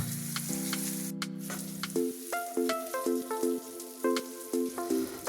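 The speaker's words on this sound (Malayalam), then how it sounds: "എന്നിട്ട് ഒരു മീഡിയം ഫ്ലെയിമിൽ വെച്ചിട്ട് നമുക്കിത് ഫ്രൈ ചെയ്തെടുക്കാം" Onion, green chili and coconut fry on a medium flame for a bitter gourd dish, a soft steady sizzle under a looping, plucked backing melody.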